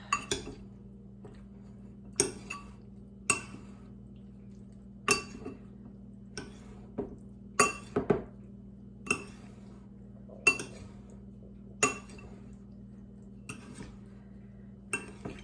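A utensil strikes a pan at a steady pace while sweet and sour green beans are mixed, giving about a dozen sharp, close metallic clinks with quiet gaps between them and no talk.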